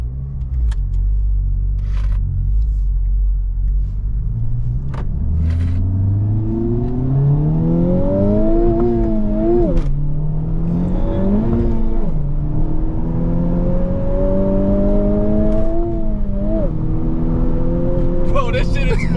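Honda Civic Type R engine pulling hard through the gears, its pitch climbing and dropping with each shift, loud and continuous from inside the car with a deep low rumble underneath.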